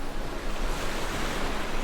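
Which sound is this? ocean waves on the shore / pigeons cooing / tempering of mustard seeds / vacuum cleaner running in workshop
ocean waves on the shore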